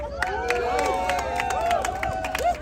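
A campaign rally crowd in New York cheers and claps for State Assembly candidate Ron Kim, with raised voices and calls ringing over scattered claps at a fairly loud, steady level.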